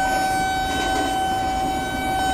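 A Vande Bharat Express train running in Train Simulator near Mulund station on a Solapur–Mumbai run: a steady loud rolling drone with a sustained high tonal whine, continuous throughout.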